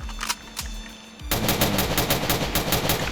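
Video game gunfire from a sniper rifle: a couple of isolated sharp shots, a brief lull, then a loud, rapid string of evenly spaced shots that runs to the end.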